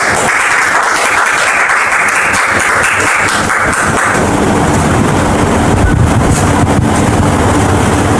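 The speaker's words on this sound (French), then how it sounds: "Merci de la recevoir sous vos applaudissements" Loud, roaring studio audience applause, thick and continuous and close to the microphone, swelling fuller partway through.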